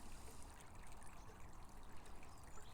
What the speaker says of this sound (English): with the background noise of the water just gently moving past